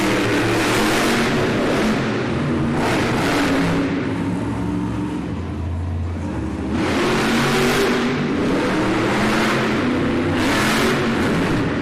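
Monster truck engine at an arena race, loud and close, surging through repeated revs with a throaty roar that rises and falls across the run, backed by crowd ambience.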